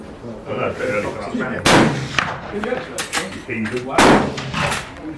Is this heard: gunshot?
yes